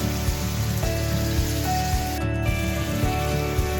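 Water splashed into a pan of mutton being fried for kasha crackles and sizzles, a dense patter of spitting pops over a low kitchen hum, close and fairly loud.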